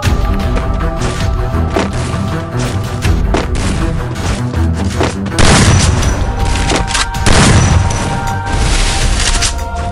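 Gunfire in the video game Free Fire during a PvP match, dense bursts of shots and booms in a loud, continuous barrage with game sounds throughout.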